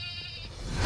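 A goat in the Payday 2 goat mod game lets out a single short, nasal bleat, close and fairly loud, with no talk over it.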